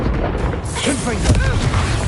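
A booming blast from the Confringo spell in Hogwarts Legacy, a single deep explosion with rumbling tail amid combat effects and spoken spell voices.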